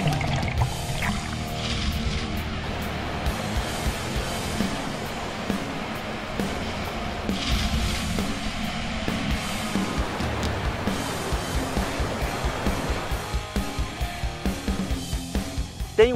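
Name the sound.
Cachoeira do Galo waterfall in Bananal, Pacaraima, Roraima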